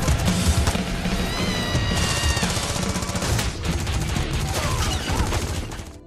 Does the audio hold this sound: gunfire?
yes